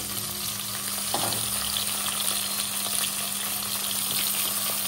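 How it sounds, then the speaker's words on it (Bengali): Eggplant pieces coated with salt and turmeric fry in hot oil, a steady close sizzle with small crackles and bubbling, plus a brief stirring scrape near the start, with no talk. "আর এবার তেলের ভিতরে এই বেগুনগুলো ভেজে নেব।"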